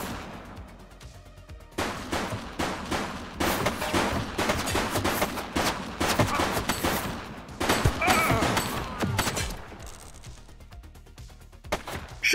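Gunfire in The Precinct, a police shootout with rapid repeated shots in dense bursts for several seconds, then tapering off, while voices call out.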